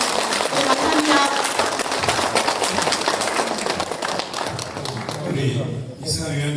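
Dense, steady applause from an audience at a photography arts forum continues throughout, with some voices mixed in toward the end.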